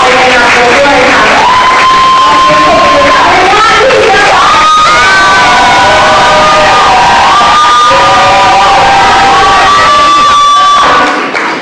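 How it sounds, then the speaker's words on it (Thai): A crowd at a business presentation event cheers and shouts loudly, with excited yells and whoops rising over one another in a noisy, continuous roar that stays near and loud throughout. "ขอเสียงปรบมือดังให้ซัพพลายในงานนี้ด้วยค่ะ"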